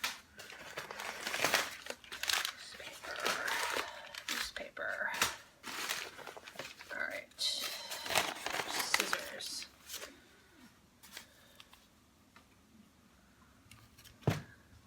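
Newspaper packing crinkles and rustles around a potted orchid being unboxed, loud crackling bursts and tearing rustles in close, irregular handling for most of the stretch before easing to quieter shuffles.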